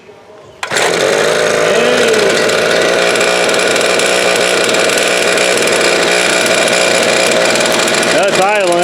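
A Powermate tiller cultivator engine taken from a storage unit fires up abruptly and settles into a loud, steady, buzzing idle that runs close and unbroken, with brief talk over it.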